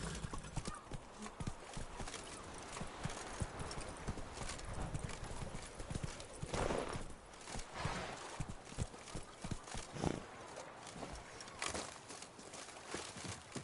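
A horse gallops in the video game The Witcher 3, with continuous quick hoofbeats under a layer of game ambience and a brief whinny partway through.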